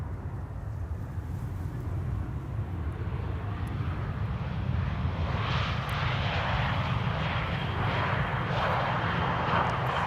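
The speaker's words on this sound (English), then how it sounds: "Air France landing in the foreground." An Air France airliner landing at Amsterdam Schiphol Airport, a continuous broad jet engine roar with rising whine heard from nearby, steady and loud for the whole stretch.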